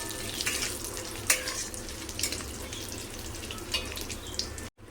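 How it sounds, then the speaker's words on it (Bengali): Garam masala, cashews and raisins fry in a pan with a constant sizzle and occasional sharp stirring scrapes and clicks, close and continuous without speech. "গরম মশলা কাজু কিশমিশটা ভালো করে একটু ভেজে নেব"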